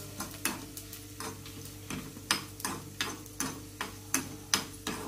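Whole cumin seeds roasting dry in a pan, stirred with a utensil that scrapes and taps the metal in a steady rhythm of soft strokes over a faint crackle, no voices.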